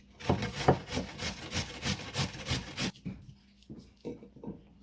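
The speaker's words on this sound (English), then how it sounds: "Grate the onion." An onion being grated by hand for Jamaican ketchup stew chicken, a run of steady rasping strokes for about three seconds, then a few scattered softer scrapes, close by with no talk.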